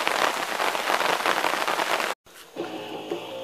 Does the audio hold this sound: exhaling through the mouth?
no